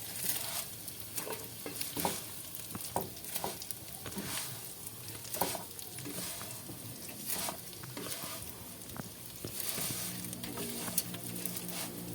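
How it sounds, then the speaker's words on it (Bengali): Broken vermicelli (semai) frying in a pan on a gas flame, a quiet continuous sizzle broken by repeated scraping stirs, close and unaccompanied by talk. "এটা তাহলে এইভাবে লাল লাল করে ভাজা হয়ে গেছে"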